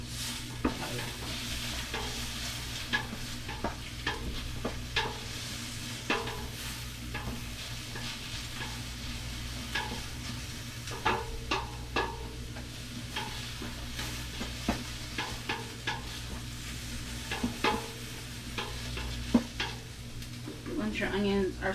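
Onions sizzle softly in a pan for homemade tomato sauce, with frequent scraping and clicking strokes of a utensil stirring throughout, close by and fairly quiet.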